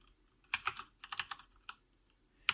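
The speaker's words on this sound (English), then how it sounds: "So as I type" Typing on a Corsair K65 RGB mechanical keyboard, a short burst of about a dozen crisp, close clicky keystrokes in small clusters, quiet and alone.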